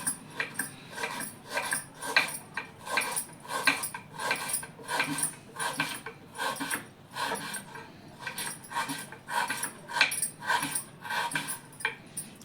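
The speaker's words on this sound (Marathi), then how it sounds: "तर असं हा आपण कांदा पातळ असा लांब लांब चिरून घेऊया" A knife slicing onion thinly into long strips on a board for crispy onion bhaji, a steady rhythmic series of close chopping taps, roughly three per second, with no voices.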